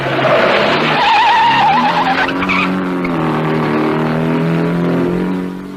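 1958 Coupe des Alpes rally cars, including Triumphs, race up an alpine pass with engines roaring and tyres squealing. The sound is continuous and loud, with engine pitch climbing and shifting, and it fades at the end.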